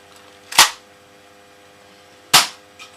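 A homemade PETG-printed paintball pistol fires twice, two sharp, loud pops spaced under two seconds apart, each with a quick decay, followed by a faint distant splat.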